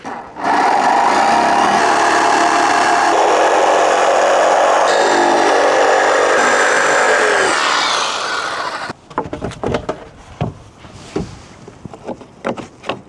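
A power saw cuts a notch into the end of a wooden trim board for a shed, a loud, steady whining drone for about eight seconds, then stops and gives way to scattered clunks and handling knocks.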